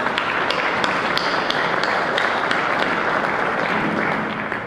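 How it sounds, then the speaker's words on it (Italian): An audience at a Palermo book presentation applauds Filippo Panzeca, a loud, close, dense burst of clapping sustained throughout with a slight fade at the end. "un applauso."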